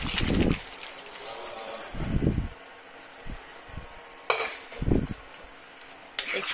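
Boiled chickpeas are tipped into a pan of cooked-down masala, giving several dull thuds and scrapes of a spoon against the pan, with quieter shuffling in between.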